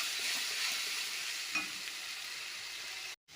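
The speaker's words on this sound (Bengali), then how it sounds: "মশলা দিয়ে দিলাম মশলাটা ভেজে নেব" Steady frying sizzle of spices in hot oil, a dense continuous hiss with a brief stir midway, cutting out abruptly near the end.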